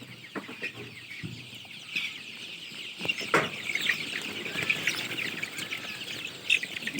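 Medium-sized chickens on a farm in Farakka, Murshidabad cluck and chatter in a busy flock, overlapping calls near and far over a constant background hum.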